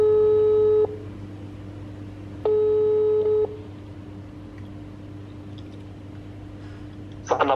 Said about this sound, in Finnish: mä nyt soitan ja laitan tän kaiuttimelle, niin jos tulee jotain, saatte kuulla